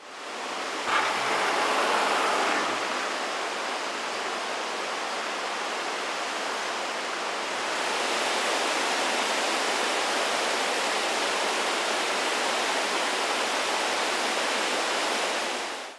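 Floodwater rushes after a heavy rainstorm in Feres, Greece, a continuous loud broadband roar of flowing water that shifts slightly in tone midway and stays steady throughout.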